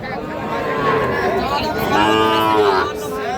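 Sahiwal-breed bull calves at a cattle market give a long, loud, drawn-out moo close by, with faint crowd noise in the background.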